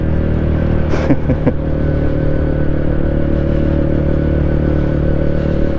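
A small Honda CB125 motorcycle cruises steadily through a 20 mph zone, its engine droning continuously with a steady harmonic hum, a brief clattering burst near the start, and wind and road noise throughout.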